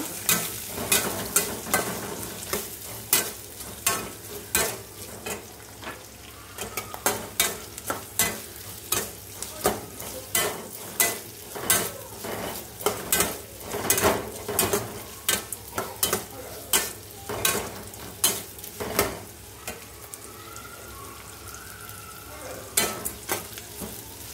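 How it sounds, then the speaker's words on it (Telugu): Chopped onions fry in a pan for eggplant fry, with a steady sizzle and a repeated scraping stir of the spatula against the pan, each stroke sharp and close. "ఆనియన్స్ యాడ్ చేసుకొని ఫ్రై చేసుకోవాలి మంచిగా"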